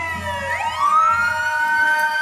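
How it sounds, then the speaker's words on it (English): An ambulance siren on a city street in the Crenshaw district of Los Angeles, a loud wailing tone sweeping upward and holding high, with traffic rumble underneath. "You see the ambulance."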